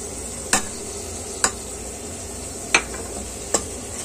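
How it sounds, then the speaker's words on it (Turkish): A spoon stirs pepper, tomato paste and spices in a pot for a meat and dried bean stew, knocking sharply against the pot four times over a faint, continuous sizzle. "Bu şekilde karıştırıyoruz."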